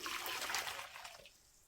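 Cold water pours in a steady trickling splash into a pot during fabric dyeing with citric acid, faint and close, fading out after about a second.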